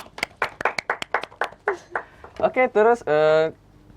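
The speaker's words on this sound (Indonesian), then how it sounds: "Keren, tepuk tangan loh." A handful of people clap in a quick, uneven burst for a student's third-place regional dance award in a school podcast setting, the claps fading as a voice starts speaking close by.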